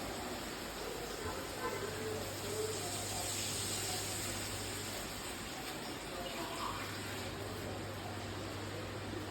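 Water pours steadily in a continuous splashing rush, close and moderately loud, with a faint hum underneath, two cups added to a pot of sautéed chicken.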